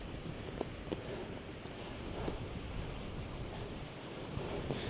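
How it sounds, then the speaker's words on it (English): Strong, gusty wind sweeps across an open seashore, a steady broadband roar with surf washing beneath it, constant and close, with occasional sharper buffets against the microphone and no voices. "get out of this wind, because it's getting gnarly"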